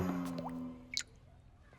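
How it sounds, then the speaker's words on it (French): A leaking tap lets drips fall into water, with a couple of soft plinks and a squishy splash in a quiet room, brief and faint. "que le robinet coule"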